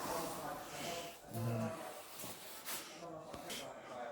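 Underseal coating sprayed under a car, a continuous hiss close by with someone talking over it throughout.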